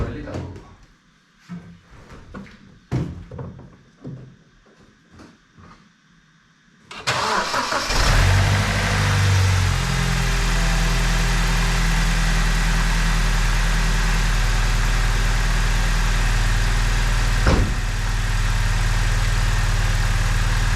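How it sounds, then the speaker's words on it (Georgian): A BMW car engine, just repaired, cranks and catches on its first start after some clicks and handling sounds, then settles into a steady, loud, even idle that runs close and continuous. "ეხლა გავაკეთოთ პირველი დაქოქვა"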